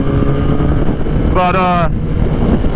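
A motorcycle rides through California with a steady engine drone and wind rush, a brief rising rev cutting through midway while someone talks over it.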